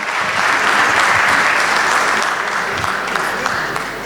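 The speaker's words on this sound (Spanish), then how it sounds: "vamos a despedir a este panel, por favor, con un fuerte aplauso para Marcela, para Sofía y para Laura" A conference audience gives a panel a loud, sustained round of applause, many hands clapping densely and evenly throughout with no voices on top.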